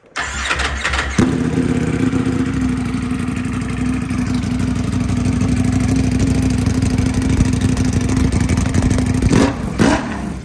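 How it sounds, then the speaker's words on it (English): A Ducati Panigale V4R with a straight pipe exhaust cranks and fires up, settling into a loud, raw, rumbling idle that holds steady before a short blip and cutoff near the end, with no talking. "This is the first time we're gonna see how a straight pipe V4R sounds."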